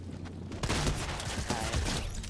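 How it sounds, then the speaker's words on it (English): Gunfire from a pump shotgun in a shooter video game, a sudden burst at about 0.6 s followed by a dense run of sharp shots and impacts over continuous game noise. "I'm popping off with this pump shotgun"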